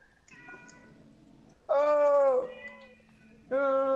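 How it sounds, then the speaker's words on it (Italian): A cat crying with drawn-out, tonal meows, a quieter wail followed by two loud close cries, the last cut short, under faint background game sounds. "c'è il gatto che piange"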